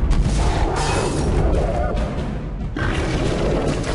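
Heavy cannon fire in the video game Alice Madness Returns, repeated deep booming blasts with rumbling impacts and game effects, loud and close, with a player's voice talking in between.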